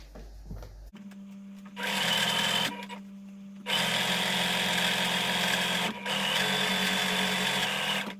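A sewing machine runs in bursts as it stitches along pillow fabric, starting and stopping several times with a steady mechanical whir, close and fairly loud with no voices.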